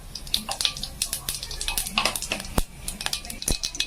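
Cumin seeds crackling and popping in hot oil in a pan already holding mustard seeds, a dense spitting sizzle with sharp clicks and a few utensil knocks, heard close.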